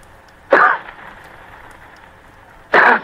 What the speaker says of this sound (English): he gave what he thought was a discreet cough